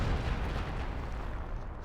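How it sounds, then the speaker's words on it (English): A heavy, booming blast from the Wikinger tank destroyer's shot in Company of Heroes 2, a dense rumbling explosion that starts loud and slowly decays over a couple of seconds, heard alone. "It has a really big explosion."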